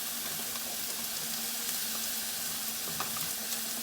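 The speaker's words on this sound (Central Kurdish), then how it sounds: "کاتێک گۆشتەکەی بکەمە ناو ئەو چزەچلیکی ئیکات" Meat sizzles steadily in a hot pot for a bean and rice dish, a dense, close frying hiss with faint crackles throughout.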